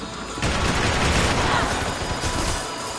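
A sustained barrage of gunshots in the video game Max Payne 3 during a multiplayer match, a dense roar of overlapping fire that swells loudly and stays thick for about two seconds before easing off.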